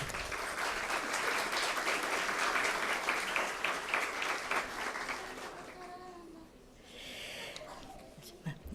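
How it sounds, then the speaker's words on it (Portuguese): Audience applause at a Brazilian legal seminar on civil procedure, sustained dense clapping for several seconds that thins out and fades near the end, with faint voices underneath. "Vamos aplaudir."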